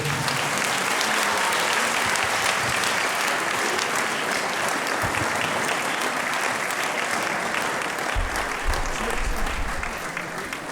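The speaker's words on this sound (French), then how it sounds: "je vous demande de les applaudir, ils vont rentrer" A crowd at an urban circus and music show in Montpellier applauds performers as they enter, dense continuous clapping at full strength for the whole stretch with no break.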